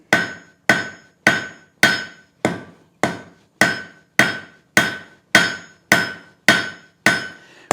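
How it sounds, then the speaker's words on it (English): A hammer strikes hot steel on an anvil while forging a fine taper for a log dog, about thirteen evenly spaced ringing blows with a bright metallic ring that decays after each hit, close and loud with no talking. "work toward that edge so that your hammer can fall below the surface of your anvil"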